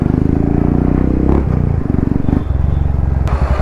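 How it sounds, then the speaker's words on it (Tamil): A Royal Enfield Meteor 350 fitted with an RRP aftermarket exhaust rumbles close by with a steady deep thumping idle, briefly blipped and then settling back, heard indoors with no talk. "எக்ஸாஸ்ட் போட்டிருக்கோம். அதோட சவுண்டு தெரிய வேணாமா நம்மளுக்கு எப்படி இருக்குன்னு?"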